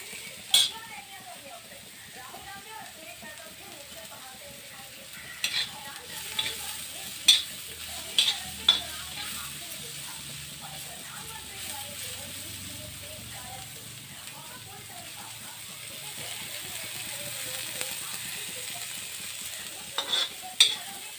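Egg omelette with fenugreek leaves sizzling and frying in a pan while being stirred, a steady low crackle with occasional sharp clinks of a utensil against the pan throughout.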